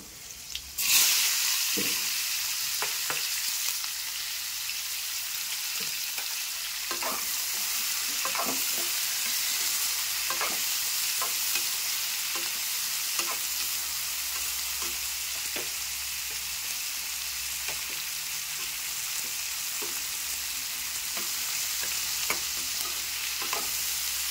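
Three to four onions cook in oil in a pan, producing a continuous close sizzle with scattered soft scraping and stirring taps over about twenty-four seconds, no one talking.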